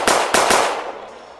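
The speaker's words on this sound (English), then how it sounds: "gunshots, please" Gunshots: three sharp, loud cracks in rapid succession, the last followed by a fading reverberant tail.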